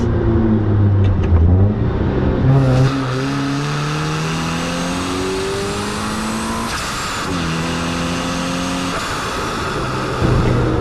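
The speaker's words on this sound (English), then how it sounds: "We're gonna do a little supercharger pull for you guys." A supercharged Subaru BRZ revs hard through rising gears, its loud roar climbing in pitch, dropping briefly at each shift, then climbing again, with a steady supercharger whine above it.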